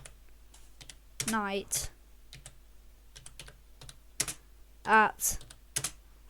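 Keys clatter on a computer keyboard in short bursts of typing, close and crisp, mixed in with brief spoken words between the keystrokes.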